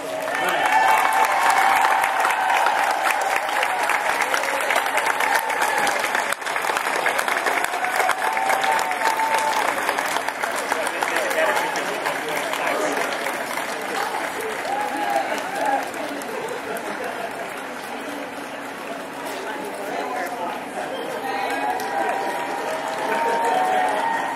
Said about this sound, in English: receive a round of applause